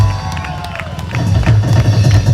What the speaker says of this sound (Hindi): क्या बात है, एक बार ताली हो जाए।